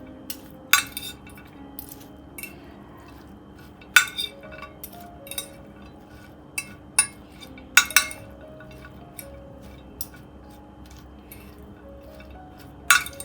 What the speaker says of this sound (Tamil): இந்த சாலடை வந்து இந்த மாதிரி 2 ஃபோர்க் வச்சு நம்ம வந்து இந்த மாதிரி மிக்ஸ் பண்ணலாம்